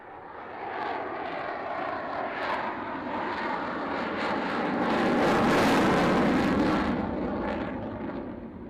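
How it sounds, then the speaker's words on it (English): A Dutch F-16 fighter jet roars past, its broadband engine noise swelling to a loud peak midway and then easing off, with no speech. "as you can see, it's the Dutch F-16, orange"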